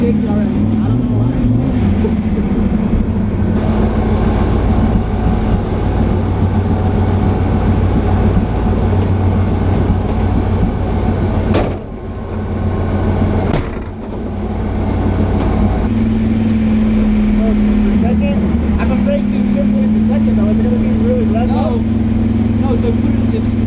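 An LS-swapped Ford Falcon drives along, its V8 droning loudly with rising and falling revs, a brief dip during a shift midway, while people talk inside the car.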